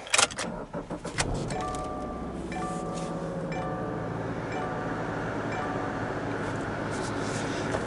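Keys clink, then a 2015 Subaru Legacy with a 2.5-litre 16-valve 175-horsepower engine starts, a brief cranking burst settling into a steady close idle hum.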